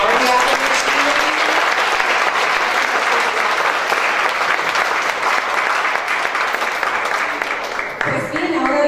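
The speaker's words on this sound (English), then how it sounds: "if we could just have a round of applause for the arts that's already happening this evening" An audience at an evening arts education event applauds loudly and steadily, a dense, sustained wash of clapping that stays near and full before dipping abruptly at the very end.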